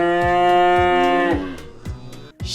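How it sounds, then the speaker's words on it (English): A cow moos in a children's animal-sounds lesson, one long, loud, droning moo that fades into a lower tail, alongside a steady rhythmic percussive beat of background music. "Cow, cow,"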